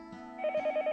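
A telephone rings in the Higurashi When They Cry game, a short electronic trill with a rapid pulsing tone, fairly soft and alone.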